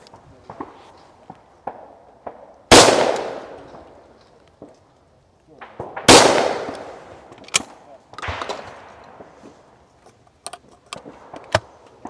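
Shotgun blasts at a clay shooting ground, a value-for-money gun fired in the open, with two loud sharp reports several seconds apart that each fade in a short echo, then a softer third shot, amid faint clicks and handling noises.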